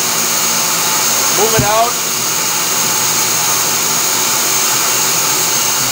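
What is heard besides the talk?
Themac tool post grinder running on a lathe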